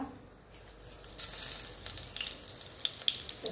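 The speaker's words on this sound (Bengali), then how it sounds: "ফোড়নে দিয়ে দেবো একটু সাদা জিরা" White cumin seeds hit hot oil for tempering, starting from near quiet and swelling into a bright, crackling sizzle that carries on close and steady to the end.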